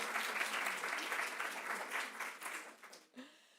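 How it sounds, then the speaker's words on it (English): An audience applauds for British Sign Language interpreters at a talk, a steady wash of clapping that carries for about three seconds, then cuts off abruptly and leaves near silence. "Can I ask you all to just give them a round of applause before they start?"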